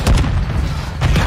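A grenade explosion in the video game Call of Duty: Modern Warfare II, a loud, close, deep booming blast that rumbles through the whole short moment.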